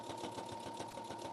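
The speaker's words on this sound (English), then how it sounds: "as you can hear, my machine is talking to me, and that's because of all of the layers of fabric" A Brother sewing machine stitches through many layers of fabric for an apron pocket, a rapid, even mechanical chatter running continuously up close with a faint steady whine.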